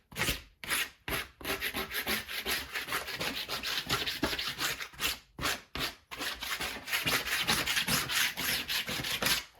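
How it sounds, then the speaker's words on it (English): Dried paint being scraped off a non-stick craft mat with a plastic card, giving rapid, loud, rough rubbing strokes in bursts with brief pauses, close up and with no talking. "after a quick scrape with the plastic card"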